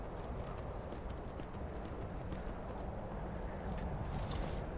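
Horse hooves clip-clop steadily in the video game Skyrim, a soft, continuous patter of steps heard faintly through the whole stretch with no talking.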